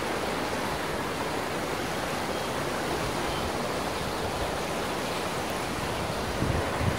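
Rushing Peng stream pouring past a bridge pier in Vietnam, a dense, constant roar of water heard close and loud throughout, with a brief low knock near the end.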